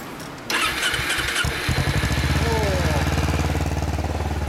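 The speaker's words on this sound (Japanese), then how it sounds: "忍者、エンジン音聞かせてもらえる？" A 2010 Kawasaki Ninja 250R twin engine cranks and fires up, then settles into a steady, close, loud idle with a rapid even pulse.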